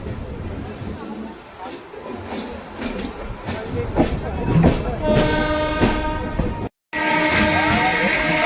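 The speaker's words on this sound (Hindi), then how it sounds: "अरे गुड्स ट्रेन है" A goods train rolls past on the adjacent track beside a moving express passenger train, a steady rumble with rhythmic clatter and a few sharp clanks, loud and close, with brief tonal squeals and a short cut near the end.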